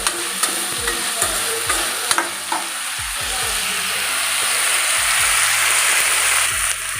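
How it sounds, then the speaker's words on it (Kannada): Garlic and ginger frying in a pan with tomato for a country chicken curry: a continuous hissing sizzle with repeated scraping clinks of a spoon stirring against the pan, steady and close. "ಬೆಳ್ಳುಳ್ಳಿನೂ ಹಾಕ್ಕೊಳ್ಳಿ ಶುಂಠಿ ಎಲ್ಲ ಹಾಕಿ ಫ್ರೈ ಮಾಡ್ಕೊಳ್ಳಿ"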